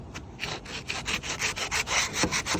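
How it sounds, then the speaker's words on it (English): A sanding block rubs back and forth over a stripped wooden window sash, giving a steady series of close, raspy strokes, roughly four or five per second, with no voices. "take my sanding block here and kind of finish it off"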